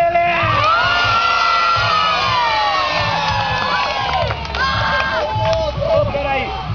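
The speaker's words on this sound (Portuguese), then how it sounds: "Palmas pra ele!" A young children's audience cheers, whoops and shouts for a street clown performing in a park, a dense, loud, continuous burst of excited voices with babble throughout.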